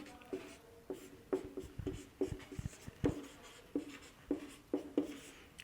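Chalk or marker tapping and scratching on a board during a math lesson, a quick irregular run of short strokes and taps, close and clear with no speech.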